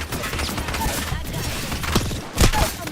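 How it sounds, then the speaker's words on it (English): Rapid gunfire in the video game The Finals, a dense crackle of shots running steadily throughout with a couple of heavier thumping bursts near the end, under faint game voice chatter. "Listen up, I'm getting shot at."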